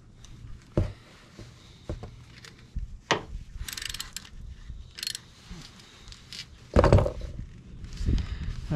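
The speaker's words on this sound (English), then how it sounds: "I got my T30 Torx. Screw this into place, or clamp this into place." A T30 Torx driver clamps down the muffler of an Espar S2 D2L diesel heater inside a DIY camper van, giving close, irregular ratcheting and mechanical clicks with sharp knocks scattered across the stretch.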